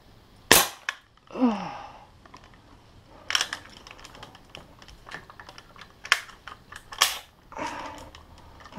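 An air gun firing pellets at a target eight meters away, with several sharp close cracks spaced a few seconds apart, mixed with mechanical clicks and handling noises from the gun between shots.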